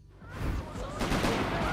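Loud, sustained gunfire from Max Payne 3 breaks in after a short quiet moment, a dense stream of rapid shots that continues without pause.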